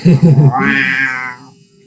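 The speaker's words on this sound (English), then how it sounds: "This is the capuchin bird." A capuchin bird calls close and loud, a few rough grunting pulses swelling into one drawn-out, moaning tone that fades away.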